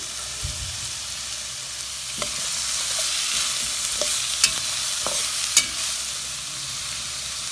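Onion and carrot are stir-fried for nasi goreng, with a steady close sizzle broken by a few sharp clanks and scrapes of a spatula against the pan, with no voices.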